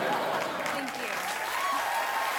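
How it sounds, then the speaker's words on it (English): A late-night talk show studio audience claps and cheers in a continuous, even wash of applause, with a voice speaking faintly beneath it. "Don't applaud."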